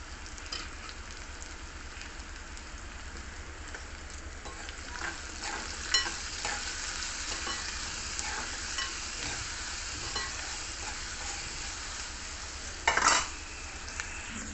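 Sliced onions fry with salt and turmeric in a pan for a curry, a soft, steady sizzle with intermittent stirring scrapes and a couple of louder clinks of a spoon against the pan, no voices.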